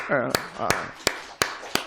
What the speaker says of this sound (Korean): 우리 김기수 사님 박수 한번 할까요?